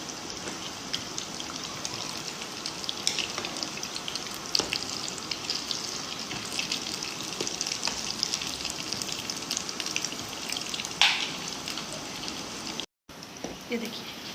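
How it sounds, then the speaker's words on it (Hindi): A pizza bread roll frying in a pan, turned so both sides brown, a loud continuous sizzle and crackle of oil throughout with a few sharper pops near the end. "आपने इसको अलग पलट के आगे पीछे से फ्राई कर लेना है"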